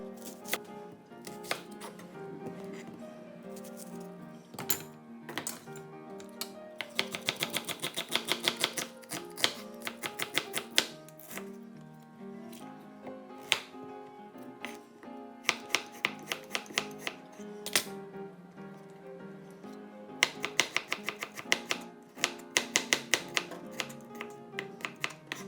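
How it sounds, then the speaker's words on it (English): A knife chopping carrots and onion on a cutting board, crisp rapid taps in quick bursts with short pauses, close and clear with no talking. "Cut the carrots and onion."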